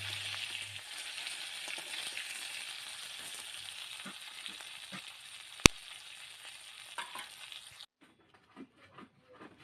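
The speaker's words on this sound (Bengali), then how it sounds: "এখন লবণ হলুদ মাখিয়ে মাছগুলোকে লাল লাল করে এপাশ ওপাশ ভেজে নেব" Rohu fish pieces rubbed with salt and turmeric frying in hot oil, a close, steady crackling sizzle with a sharp clink partway through, then the sizzle cuts off and leaves faint scattered ticks.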